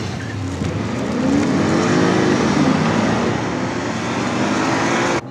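Cars launch hard off the line in a roadside drag race, a Porsche Cayenne among them, engines roaring loud and near as they rise in pitch through sustained acceleration, with tire noise and no talk, cutting off abruptly at the end.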